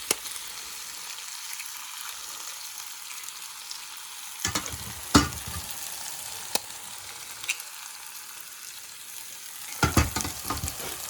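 Two eggs fry in a pan for Bengali-style alu posto, giving a continuous sizzling hiss with occasional sharp spatters and stirring knocks, steady and close, with no voices.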